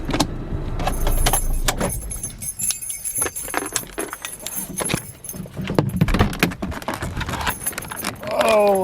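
Keys jangle and clink in bursts of sharp metallic rattles inside a drift kart workshop, close and fairly loud, mixed with handling noises and knocks.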